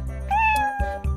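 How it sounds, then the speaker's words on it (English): A cartoon cat gives a single clear, drawn-out meow with a rising then falling pitch, loud and close, alone with no talk. "Cat."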